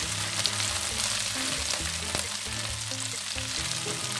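Chilies fry in an oily pan for Medan-style shrimp sambal tauco, giving a loud, close, continuous sizzle with crackling bursts throughout.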